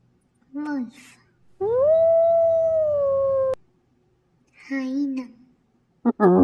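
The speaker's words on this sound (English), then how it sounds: "wolf" A wolf gives one long, steady, loud howl, heard alone between a voice reading out short spoken words.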